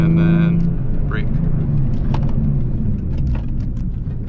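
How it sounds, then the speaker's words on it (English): A Nismo 370Z rumbles steadily from inside while it is driven hard along residential streets, its engine note loud at first and then settling into a low drone, with someone talking over it. "Just ripping up some residential streets right now."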